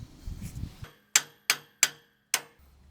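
A hammer drives pins into an FAE forestry mulching head: four sharp metallic strikes, close and evenly spaced, each ringing briefly before fading, after a short stretch of low noise.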